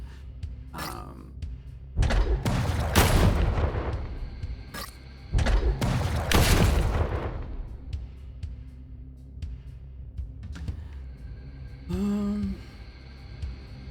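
Gunfire in the video game Deep Fringe comes as heavy booming blasts in two clustered bursts, with sharp thuds and a brief tonal whine among them, loud and close, and someone talking between them.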